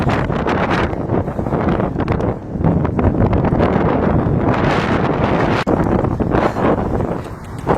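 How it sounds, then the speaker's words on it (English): Strong, gusty wind buffets the microphone outdoors on a walk to a park, a loud continuous rumbling roar with surges and brief lulls throughout. "that is a serious wind"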